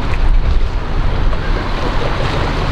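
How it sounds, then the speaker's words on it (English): Blustery wind buffets the microphone aboard a boat on the River Thames near Henley Bridge, a loud, continuous rushing roar with no speech. "Very blustery day today."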